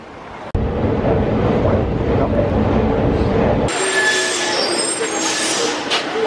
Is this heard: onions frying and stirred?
no